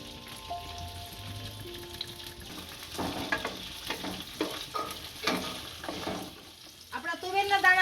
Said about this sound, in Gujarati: આપણું તેલ સારી રીતના ગરમ થઈ ગયું છે આમાં હવે તુવેરના દાણા નાખીશું અને સેડવી લઈશું અને તેલમાં ચડવા દઈશું